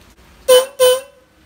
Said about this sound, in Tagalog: Testing one horn.